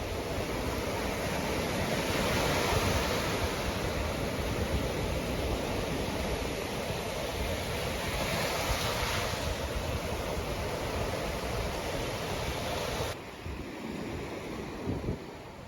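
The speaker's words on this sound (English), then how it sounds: "Wanted to give you guys a few moments to just appreciate the ocean," Ocean waves break and wash steadily on a shelling beach with coral, a loud continuous roar of surf mixed with wind buffeting the microphone, with no voices.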